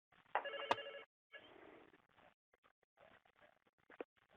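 A single short telephone ring sounds quietly, followed by faint muffled rustling and handling noise.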